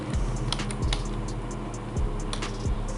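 Java code is typed on a computer keyboard with quick, irregular keystroke clicks in short bursts. The sound is close and clear, with no talking.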